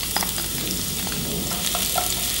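Lemongrass is thrown into a hot frying pan, giving a loud, continuous close sizzle with a few crackling pops throughout and no talking.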